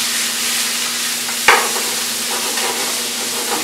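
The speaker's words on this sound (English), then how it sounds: "So next is we're gonna add some chopped onion." Chopped onion frying in a pan for a chicken curry, a loud, continuous close sizzle with one sharp clack of a utensil against the pan partway through.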